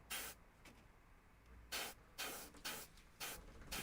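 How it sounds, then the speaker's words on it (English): Short bursts from an airbrush spraying paint onto a miniature model, about six sharp hissing blasts of varying length separated by quiet pauses, close and fairly soft. "So we're going to put it to that angle, and then spray up."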